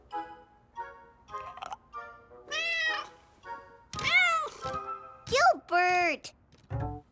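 Toy cat in a Caillou cartoon giving a string of repeated meows, some short and some drawn out and rising, fairly close and clear with quiet gaps between them.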